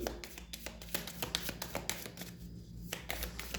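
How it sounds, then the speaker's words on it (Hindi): Tarot cards are drawn from a deck by hand, giving light taps, flicks and papery shuffling at close range, quiet and uneven in rhythm. "यहाँ से कुछ कार्ड्स मैं लूँगी।"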